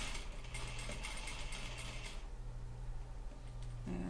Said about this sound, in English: until I get to the corner, and then I will be stitching the diagonal